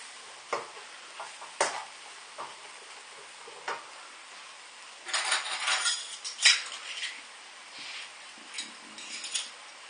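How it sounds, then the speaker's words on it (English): Pork stir-fry tossed in a pan: irregular utensil scrapes and clacks against the metal over a low sizzle, with a busier stretch of scraping midway and several sharp taps. "Stir everything around, make sure everything's covered in those juices."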